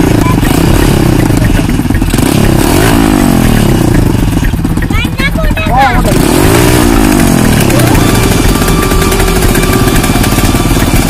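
A geared off-road motorcycle ridden by a young rider at an off-road bike race, its engine running loud and steady throughout with shifting pitch and clattery mechanical noise, with talk over it.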